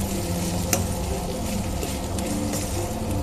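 Chitranna rice mixed with lentils is stirred in a pan on the stove, a dense continuous sizzle and rustle with soft scraping strokes and one brief clack early on.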